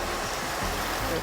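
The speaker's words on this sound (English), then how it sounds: "So you just want to slowly pour in the chicken stock." Chicken stock is poured slowly into a pan while making a poblano chile sauce, giving a brief continuous liquid splashing and gurgling rush, close and fairly loud.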